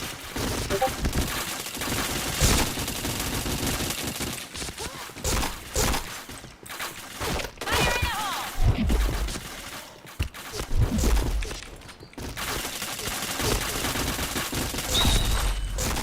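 Constant rapid gunfire fills a shooter video game, with dense bursts and volleys running almost without pause under brief voice fragments.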